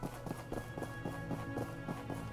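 Horse hooves clip-clopping in a steady walking rhythm in the video game My Time at Portia, fairly close and even, with soft game background sound underneath.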